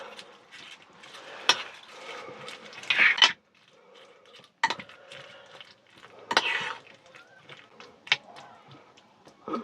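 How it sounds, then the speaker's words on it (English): Food is stirred in a pan with salmon being cooked inside a motorhome, giving a few separate metallic scrapes and clanks of utensil on cookware with quiet gaps between them. "And give it a stir."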